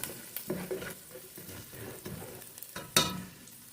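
Ginger fries in a pan for a Filipino milkfish and chorizo dish, a soft, close sizzle with stirring scrapes and one sharp clatter near the end.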